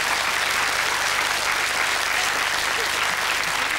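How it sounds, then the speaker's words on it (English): Studio audience of a 1991 television dating game show applauding, a thick, even wash of clapping that holds at full strength for the whole stretch. "Give another nice round of applause."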